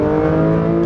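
Porsche 911 S/T engine holding a steady, rich mechanical drone with strong harmonic tones, loud and close, no voices.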